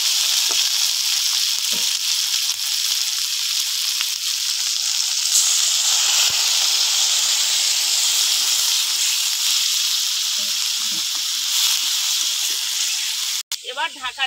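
Mixed small river fish from the Sundarbans fry in a pan, a steady close sizzle and hiss with a clatter near the end.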